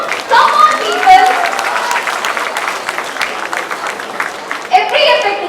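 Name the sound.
audience applause at youth festival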